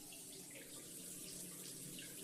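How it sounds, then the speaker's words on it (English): A bathroom water tap runs in a steady, close, even rush of water, alone with no voices. "Turned on the water."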